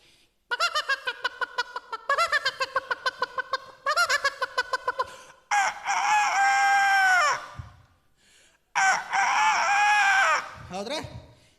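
A man imitates a rooster, with stuttering clucks building into long loud crowing calls, repeated twice with pauses between.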